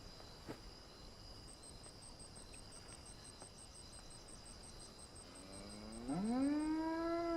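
A cow lets out one long, loud moo near the end, rising and then falling, over faint crickets chirping steadily in quiet countryside.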